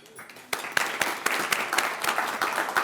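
An audience at a chamber of commerce meeting claps for a port commissioner, scattered individual claps building into steady, moderately close applause.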